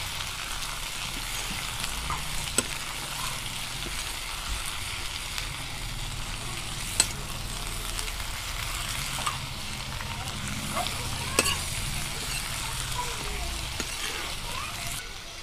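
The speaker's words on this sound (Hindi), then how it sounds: "हल्दी और धनिया पाउडर को हम अच्छे से मिला लेते हैं।" Kachri curry being stirred with turmeric and coriander powder in a pan, producing a continuous low sizzle with occasional light scrapes and knocks of a spoon.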